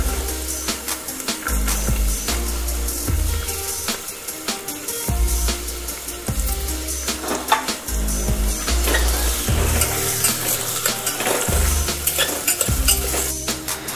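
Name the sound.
onion frying with ginger, garlic and green chilies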